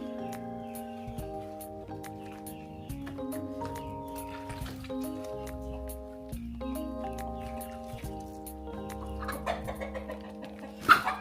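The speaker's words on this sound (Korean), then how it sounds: "닭이 막 왔다 갔다 하고" Hens cluck on and off in Ubud, Bali, amid a busy background of steady tonal hum and music-like tones, with a brief louder burst near the end.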